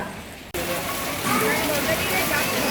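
Heavy rain pours down steadily in a dense, loud hiss of drops on surfaces, close and continuous, with faint voices beneath.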